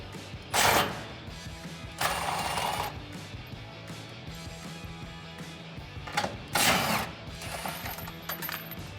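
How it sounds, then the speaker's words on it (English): Ratchet with a 16 mm socket loosening the rear bumper nuts on a Jeep Gladiator JT, giving several short bursts of rapid clicking separated by quieter gaps, close and clear with no speech. "With a 16 millimeter socket, we can remove the 2 nuts on either side that are holding the bumper to the frame rail right here."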